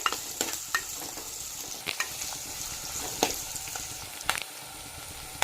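Chopped onions fry in hot oil for a coastal Karnataka kadle sukka, a steady close sizzle broken by sharp scrapes and clicks of a stirring spoon against the pan.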